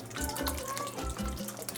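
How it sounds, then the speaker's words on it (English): Coconut milk pours into a pot of rice, water and soya chunks for a vegan pelau, making a close, steady liquid splash and gurgle with a few soft low thuds and no talking. "Now I'm going to go in with some coconut milk,"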